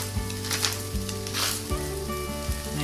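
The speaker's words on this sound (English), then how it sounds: "Put the onions on the frying pan and season with salt." Sliced onions sizzle in vegetable oil in a frying pan, seasoned with salt for Korean japchae, crackling steadily up close with occasional stirring scrapes and no talking.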